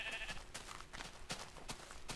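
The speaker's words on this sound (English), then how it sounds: "Hello cow, hello sheep." A sheep in the video game Minecraft bleats briefly, faint and somewhat distant among scattered clicks and soft game sounds, with no talking.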